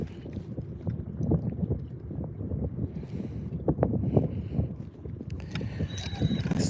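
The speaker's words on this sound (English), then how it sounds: "So the wind's starting to pick up a little bit now" Wind picks up over a lake during a bass fishing outing, a steady rushing buffet across the microphone with faint knocks and small splashes from a boat, no one speaking.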